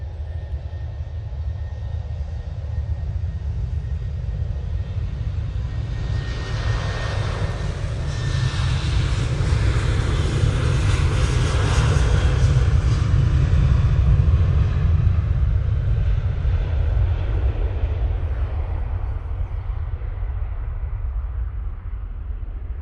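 An Ethiopian Airlines Airbus A350-900 jet airliner arriving at Manchester Airport gives a long, loud, low engine roar that swells as the aircraft passes nearest and then slowly fades. There is no talk.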